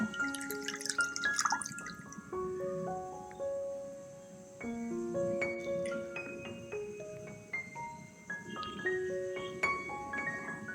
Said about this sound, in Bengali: একটা ছাঁকনির সাহায্যে আমি ডাবের পানিটাকে ছেঁকে নেব